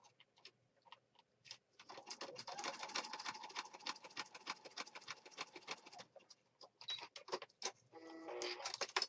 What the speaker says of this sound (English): we're going to stitch just down this edge